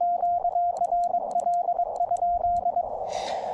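A fixed-pitch Morse code sidetone from a QRP radio and key operating in the field, sent as a quick run of short and long keyed beeps in a clean rhythm at moderate volume. A burst of static hiss follows at the end.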